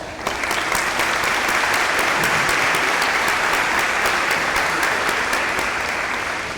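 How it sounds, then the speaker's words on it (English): A crowd at an elementary school opening ceremony applauds the county mayor and commissioners, a loud, dense wash of clapping that holds steady and close for several seconds without pause. "please stand up and let's give them applause"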